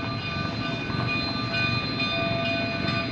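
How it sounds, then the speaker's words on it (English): Narrow gauge steam locomotive number 484 on the Cumbres and Toltec Scenic Railway in Chama, New Mexico, approaching with a steady rumbling chug and a sustained whistle tone, moderately loud with no voices. "So here comes our locomotive number 484."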